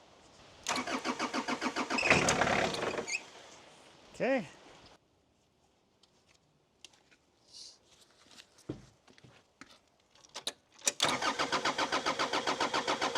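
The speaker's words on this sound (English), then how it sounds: "Crank the engine a little bit." A Vermeer S800TX mini skid steer engine cranks and catches, settling into a steady mid-pitched idle after a few seconds, with brief quiet stretches, handling clatter and a short spoken word.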